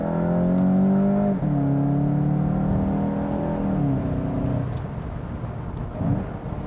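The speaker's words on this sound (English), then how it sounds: "it's got that sound enhancer noise" A 2019 Volkswagen GTI engine revs with a smooth, synthetic-sounding tone from its sound enhancer, pitch rising and falling through several gear changes, steady and loud with no voices.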